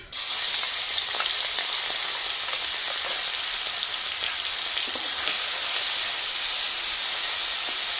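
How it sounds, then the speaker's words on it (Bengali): Prawns sizzle in hot mustard oil in a wok, a loud, steady crackling fry with dense spitting pops that holds without a break, with no voices over it. "চিংড়ি মাছ ভাজবো, কড়াতে সরষের তেল দিয়ে দিচ্ছি।"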